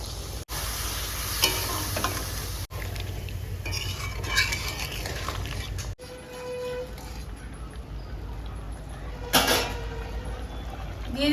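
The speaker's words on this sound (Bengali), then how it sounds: "এখন দিয়ে দিব পরিমাণ মতো একটু জল।" Chicken frying in oil in a home kitchen gets a splash of water, setting off a steady sizzle and hiss with occasional spoon-against-pan clinks and scrapes.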